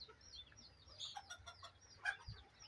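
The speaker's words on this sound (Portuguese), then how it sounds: "Ao canto dos pássaros." Faint, scattered bird calls and chirps drift in from a large rural garden plot with papaya plants after rain, with short calls rising intermittently over a quiet background and no talking.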